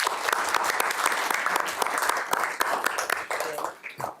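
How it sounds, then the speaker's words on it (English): A crowd at a board of education meeting claps steadily in dense applause that fades slightly toward the end. "So one last round of applause."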